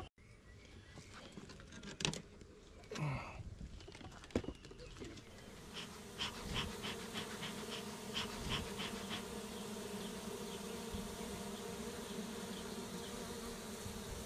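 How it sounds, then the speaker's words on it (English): A bee colony that has moved into a shed wall buzzes steadily and close, with single bees droning past as they come and go carrying pollen, and a few soft knocks early on. "we're going to inspect the swarm that we removed the other day. That's now a colony, and they're coming and going, bringing in pollen"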